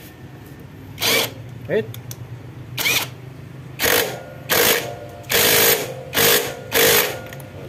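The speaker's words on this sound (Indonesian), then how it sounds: "terus kita kencangkan pakai impact" Impact wrench tightening the clutch nut on a Honda Kharisma / Supra X 125 motorcycle during a manual clutch install, firing in about seven short, loud bursts separated by brief pauses, with a word spoken between them.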